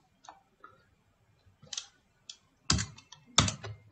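Sparse computer keyboard keystrokes tap out in small clusters, quiet at first, then a couple of louder, sharper clacks near the end, close and alone with no talk.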